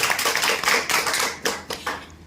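An audience claps at a training program in Akalera, Rajasthan. The clapping is brisk and fairly close, then thins into a few scattered claps and fades away.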